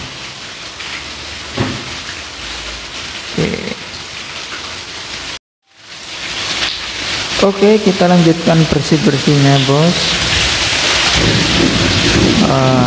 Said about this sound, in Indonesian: Karena hujan turun